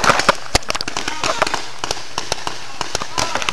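Gunfire in the video game Battlefield 2 crackles in sharp, irregular bursts of loud shots, some close and some distant, beneath a player speaking.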